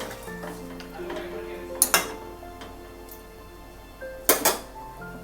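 A spoon stirs chicken shahi korma in a pot just after hot water goes in, with two clusters of bright metallic clinks against the pot over a quiet, faintly humming kitchen background.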